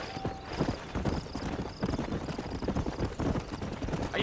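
Horse hooves clip-clop at a steady walking rhythm in the Red Dead Redemption video game, close and continuous throughout with no talking.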